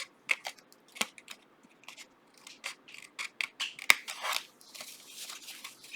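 Scissors snipping and making small incisions in paper for a gift box, a series of short crisp cuts in an irregular rhythm, close and quiet, with soft rustling of the sheet between cuts.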